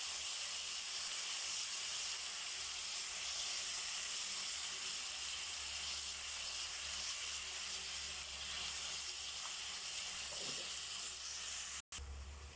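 Tomatoes with a pinch of salt sauté in a pan for tomato rice, giving a steady, soft, continuous sizzling hiss with no talk, cut by a brief dropout near the end.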